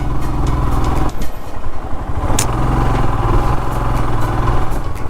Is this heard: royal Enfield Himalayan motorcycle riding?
yes